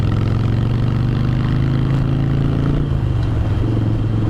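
A Harley motorcycle fitted with a loud aftermarket exhaust, riding in Jogja: a continuous, close, heavy engine rumble with a throbbing low drone and no break.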